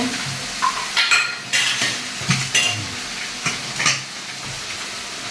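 Chopped onions sautéing in a pan are stirred with a utensil, giving a soft sizzle broken by repeated scraping and clinks of metal against the pan.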